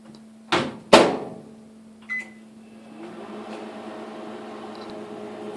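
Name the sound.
microwave oven running with peanut brittle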